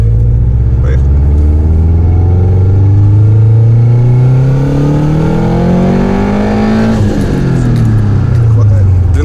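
A Subaru with a loud engine knock, running tuning firmware, pulls hard in second gear, its engine note climbing steadily in pitch, then easing off and shifting; loud in-cabin drone throughout.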